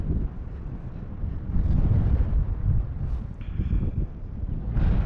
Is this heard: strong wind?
yes